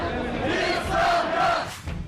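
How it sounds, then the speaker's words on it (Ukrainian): A protesting crowd shouts and roars while storming a building during a garbage-crisis protest in Lviv, a dense mass of raised voices swelling in the middle, with some individual yells standing out. "уже незабаром юрба йде на штурм"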